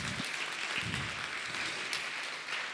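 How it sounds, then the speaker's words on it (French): A conference audience applauds an economist being welcomed on stage at a blockchain event, with steady, dense clapping that fills the room and holds throughout. "On va l'applaudir aussi."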